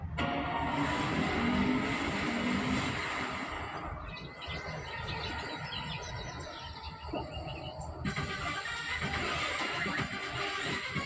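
Racing cars from the Sonic Racing Crossroads video game trailer, with engine roars and tire squeals over a dense, loud mix of music and effects throughout.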